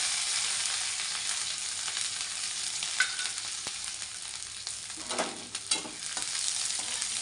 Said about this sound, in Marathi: आपली राई तडक्यासाठी टाकलेली आपण. टाकूया कढीपत्ता. तेल खूप गरम झालं आहे माझं